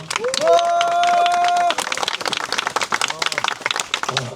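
Applause at a memorial ceremony, starting with a short held voice and then breaking into a burst of crowd clapping that stays busy and fairly loud before thinning toward the end.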